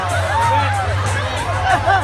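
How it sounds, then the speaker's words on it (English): A crowd at a swimming pig show cheers and whoops in short bursts, loud and close, with babbling voices mixed in. "help her out by cheering for her"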